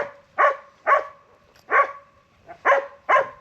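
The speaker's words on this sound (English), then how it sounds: "hopefully these dogs just get out of here" Dogs bark outdoors in rural Missouri during an evening deer hunt: six sharp barks in uneven bursts, moderately near, set against a quiet background.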